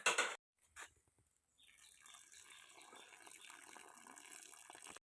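A brief rattle, then water pours and trickles steadily as it drains off boiled tapioca, soft and close, with no talking.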